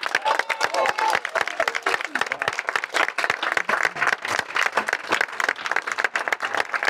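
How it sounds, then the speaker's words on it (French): Dense, loud applause from an audience at a puppet festival ceremony, steady rapid clapping with no let-up across the whole stretch. "donc je vous demande très sincèrement de les applaudir"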